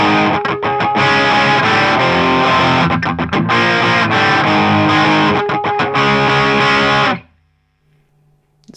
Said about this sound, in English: and then the distortion comes on